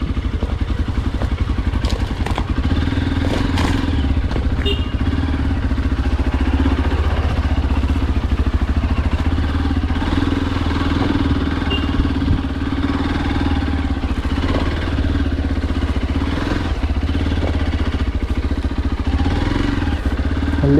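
A Hero Xpulse 200 4V motorcycle engine runs steadily through a ride on a rural canal-side track near a coconut farm, loud and close with a constant low drone and slight clatter, no talking.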